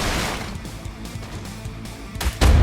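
A forest being blown up in the ARK survival video game; a low, noisy rumble with scattered crackling gives way to a sudden loud booming burst at the end, with no talk.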